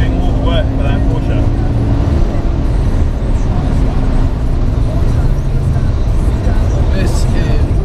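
A BMW M3 passes on the Nurburgring, a loud continuous road and engine roar with shifting tones as it goes by; voices talk over it.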